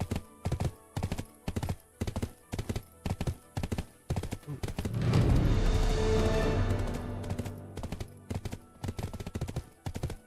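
Rhythmic clip-clop of video game horse hooves at a steady gallop, loud and close, with a brief swell of rushing noise in the middle.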